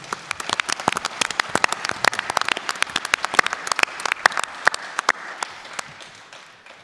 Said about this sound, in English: Let's give him a hand of applause, please.